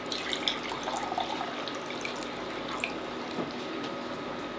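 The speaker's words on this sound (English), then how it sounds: "we are going to also add a tiny bit of water again, so around 250 milliliters" About 250 ml of water pours into a pot of Polish vegan cabbage stew, a steady trickling and splashing with small drips, fairly soft and continuous for several seconds with no talk.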